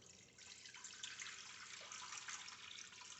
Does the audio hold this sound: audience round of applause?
no